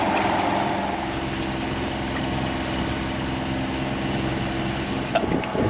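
A power catamaran's engine drones steadily at a low pitch, moderately close, approaching from behind on Pamlico Sound near the Neuse River, with a continuous rumble over wind and water noise.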